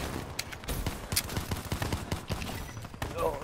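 Shotgun gunfire in a video game, rapid bursts of sharp blasts fired in quick succession over game noise, loud and fairly close.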